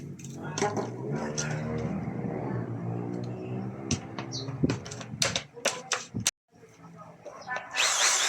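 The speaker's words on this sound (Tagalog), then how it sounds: "Drill na itong gagamitin kong pambutas kasi baka masira yung soldering iron." A power drill boring holes for a DIY vegetable planter, with bursts of whirring and sharp tool clatter, then a brief pause and a louder burst at the end, with a person talking over much of it.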